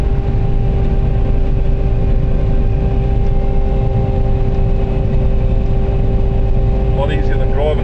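A combine harvester harvesting oats, a loud, steady engine drone with a constant mechanical hum heard from inside the machine, unbroken throughout.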